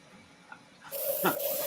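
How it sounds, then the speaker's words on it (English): A hairdryer switches on and blows steadily across a freshly painted bust, a loud broadband rushing hiss with a faint whine that starts partway through and continues to the end. "Hit it with the hairdryer."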